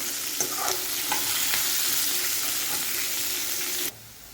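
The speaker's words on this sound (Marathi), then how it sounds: "मी कांदा भाजून घेण्यासाठी थोडंसं तेल टाकून घेतलेलं आहे आणि आता मी मोठा गॅस करून घेतला" Chopped onion fries in a little oil over a high flame, making a loud, steady sizzle with occasional stirring scrapes that runs continuously and then cuts off abruptly near the end.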